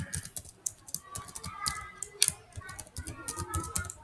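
Quick keystrokes on a computer keyboard tap out in an irregular patter, fairly close and soft, with a person speaking over part of it.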